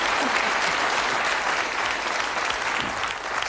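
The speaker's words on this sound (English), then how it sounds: "give an encouraging round of applause to Nick Owen" Studio audience applauding at a televised darts game show, a dense steady roar of clapping that stays full and loud throughout with no break.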